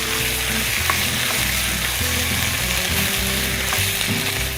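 Canned and fresh tomato hits a hot pan for an osso buco sauce, setting off a loud, dense, steady sizzle with bubbling and stirring clatter throughout, and no one talking.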